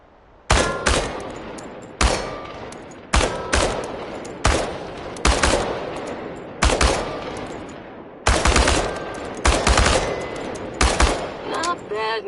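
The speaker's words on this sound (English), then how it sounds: "The biggest challenge is compensating for recoil in automatic firing mode." Automatic weapon fire from a video game shooting range aimed at tin cans, heard as about ten loud, close bursts spaced roughly a second apart, each a rapid rattling volley with a ringing tail, no talking.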